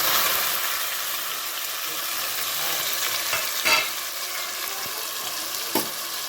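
Ground onion paste sizzles steadily in a pan with fennel and cardamom for a chicken gravy, a continuous close frying hiss with brief stirring scrapes and no talk.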